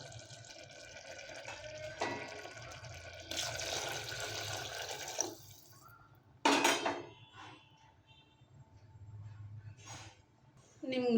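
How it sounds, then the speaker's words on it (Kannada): Water is poured into a cooking masala for a sprouted-bean curry. Quiet splashing and trickling come in a few bursts, along with clinks of pots and utensils in a home kitchen. "ಇವಾಗ ನೀರು ಹಾಕ್ಕೊಳ್ತೀನಿ."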